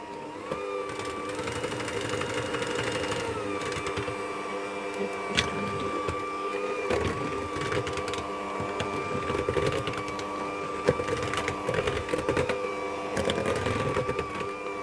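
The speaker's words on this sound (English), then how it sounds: "I'm going to whisk that on a low speed until that's just about combined" An electric mixer on low speed whisks flour, cocoa powder and salt for chewy brownie cookies, a steady whirring hum that runs unbroken for the whole stretch with light clatter from the bowl.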